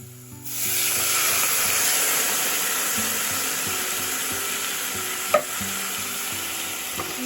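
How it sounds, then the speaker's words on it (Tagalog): Vegetarian curry being stirred and fried in a pan, a steady close sizzle with scraping and rubbing of the spoon against the pan running throughout, plus one brief knock near the end; no talk. "And just stir it. Mix it together."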